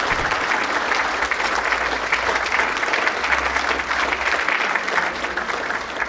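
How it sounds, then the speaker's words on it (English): A banquet-hall crowd at a baseball scouts' annual awards dinner gives a long, steady round of applause for the award winners, broad even clapping that holds at a fairly loud level from start to finish. "Let's give one more big round of applause to all of our award winners this evening."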